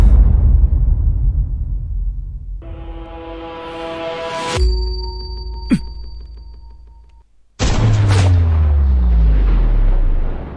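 A sniper rifle firing 12.7 mm large-calibre armour-piercing rounds in a drama scene: heavy, loud booming blasts with a sharp crack midway, ringing tonal effects, and then a sudden rumbling burst near the end.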